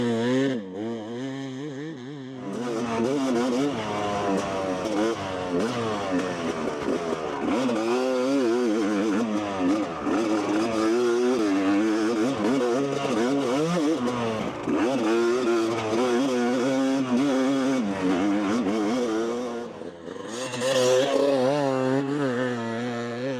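Stock Yamaha YZ250 two-stroke dirt bike riding a full lap on a rocky trail, its engine loud and close, revving continuously with rising and falling pitch and a sharp blip near the end.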